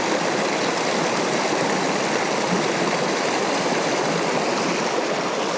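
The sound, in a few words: river stream flowing in New Mexico mountains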